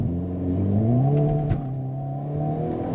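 A 2022 Hyundai Kona N performance SUV accelerates hard from a green light on a cold day, its engine note rising steadily and droning loudly from inside the cabin, with no talk.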